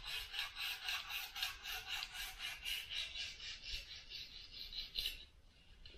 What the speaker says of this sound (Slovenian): Gledamo, da ko brusimo, da imamo konstanten pritisk.